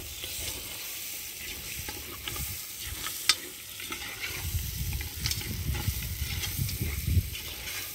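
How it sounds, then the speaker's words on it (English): Mutton frying in a pot over an open fire, a steady sizzle with occasional stirring scrapes and clinks, close and moderately loud, with no one talking. "I'll add the meat. I'll let the meat fry,"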